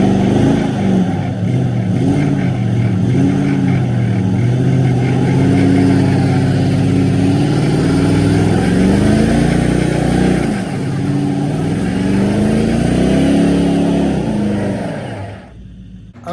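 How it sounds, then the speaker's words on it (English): A truck doing a burnout in the snow, its engine revving hard and steady at close range for about fifteen seconds, the roar rising and falling before cutting off abruptly. "I kind of want to do a burnout on my dad's truck"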